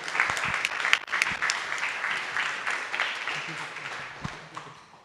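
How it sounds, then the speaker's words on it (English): A modest room of people applauds at an Ethereum blockchain meetup in Singapore, scattered individual claps audible within a light, thinning patter that fades toward the end. "so let's give Andrew and his team a big round of applause."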